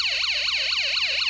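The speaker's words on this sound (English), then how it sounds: "The disco motor spins and lights up, but also a siren sound plays." Electronic wailing siren from a Snap Circuits toy sound module played through a small speaker, a loud, steady rising-and-falling tone repeating about every quarter second with no talking.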